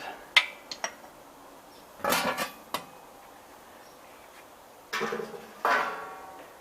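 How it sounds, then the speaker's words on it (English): Metal lid and diffuser plate lifted off a Corolla gasifier: sparse clanks and clinks of metal parts, a few sharp knocks and two longer scraping rattles, close by in an otherwise quiet space. "Remove the lid and then the diffuser plate."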